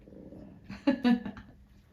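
A dog gives two or three short, gruff barks close by, preceded by a low grumble, then falls quiet.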